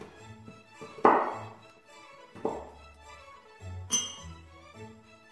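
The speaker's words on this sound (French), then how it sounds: "je vais venir hacher mon chocolat blanc et le mettre dans un récipient." A knife chops white chocolate on a board in a few scattered, sharp knocks and clinks, close and fairly loud against a quiet room.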